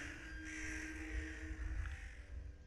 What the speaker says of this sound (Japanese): カラスはもちろん、門の上にある死人の肉をついばみに来るのである。